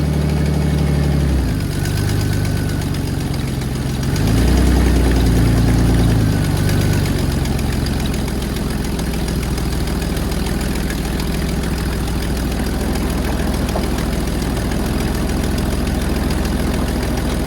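The twin-turbo engine of a 1965 Mustang wide-body hot rod runs loud and close, a deep idle that swells in a couple of revs early on, then settles into a steady rumbling drone.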